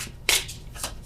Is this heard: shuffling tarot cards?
yes